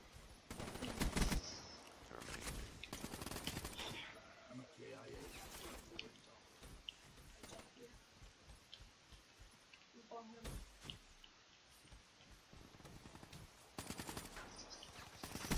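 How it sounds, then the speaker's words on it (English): Automatic burst gunfire in the video game Black Ops 3 crackles as rapid clusters of shots at intervals, fairly quiet overall, mixed with other game sounds. "I thought it was an auto burst for a second"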